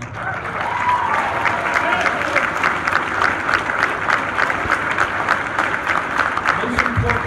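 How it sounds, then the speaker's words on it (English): Sustained, dense audience applause fills a hall at a U.S. House 7th District debate, steady and loud throughout with a few voices mixed in. "A special round of applause."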